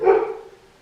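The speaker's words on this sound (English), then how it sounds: "There's my dog." A single short dog bark, close and fairly loud, fading quickly.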